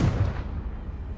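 A Confringo blasting spell from Hogwarts Legacy bursts in a single close, loud explosion with a booming low impact that rumbles and fades over about a second, no speech.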